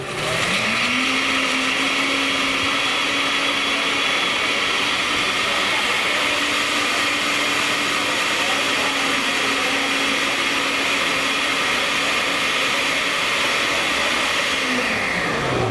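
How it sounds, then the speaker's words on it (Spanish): A blender runs continuously at full power, blending a liver-cleansing juice in a healthy cooking workshop. The motor whir is loud, steady and close, with no talk over it for the whole stretch. "Que más de 30 segundos no es recomendable dejar una licuadora prendida porque se daña el motor."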